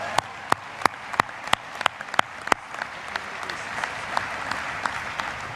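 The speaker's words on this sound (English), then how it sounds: "please give the faculty and staff a round of applause for the commitments they have made toward your education" Commencement crowd at Texas A&M University applauding faculty and staff: a few sharp, distinct claps ring out at first, then thicken into a broad, moderately loud applause that gradually fades.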